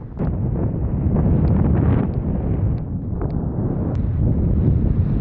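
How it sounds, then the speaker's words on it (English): Strong wind roars across high Colorado sand dunes, a loud continuous buffeting rush that batters the microphone without pause. "The wind up here is crazy."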